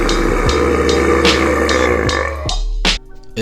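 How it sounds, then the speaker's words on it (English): A long, loud burp from someone rumbles steadily for about two and a half seconds, then a brief sharper burst and a quick tail cut it off, with no talking. "I really enjoyed this burp."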